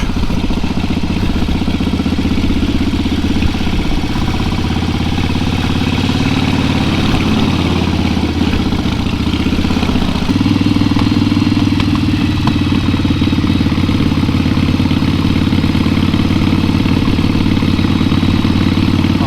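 A Harley-Davidson Iron 883 Sportster with an enlarged-displacement engine runs steadily and loud, a deep rumbling, throbbing exhaust note close by for the whole stretch, with a slight change in pitch partway through.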